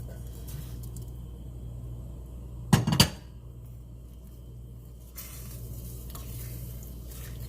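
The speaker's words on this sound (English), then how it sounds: "I'm going to go on and drop my broccoli back off in here." Broccoli drops into a hot pan with a brief, loud clatter and thump, then settles into a steady low sizzle with faint scraping from stirring.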